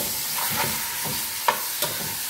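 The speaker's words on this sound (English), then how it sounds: "You hear that searing? That simply means your pot is hot" Chicken for Jamaican curry sears in a hot pot with a steady bright sizzle, punctuated by a few soft scrapes of stirring.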